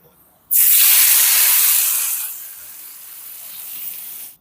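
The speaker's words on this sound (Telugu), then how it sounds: "పోపు వేగిందండి ఇప్పుడు చట్నీలో వేసుకుందాం" Hot tempering of asafoetida and curry leaves hits raw cucumber chutney with a sudden loud sizzling hiss. The hiss holds strong for about two seconds, then settles into a softer, steady crackle.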